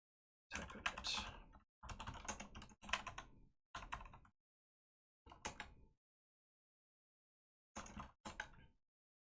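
Bursts of typing on a computer keyboard, several quick runs of clattering keystrokes separated by short pauses, close and fairly loud with no talking.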